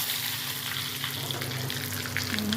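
Curry leaves hiss and crackle as they drop into hot tempering oil for a buttermilk kadhi. A loud, steady, close sizzle continues throughout with no talking.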